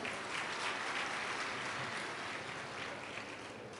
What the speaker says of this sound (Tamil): அதுக்கே ஒரு கைத்தட்டல் கொடுத்துடலாம்.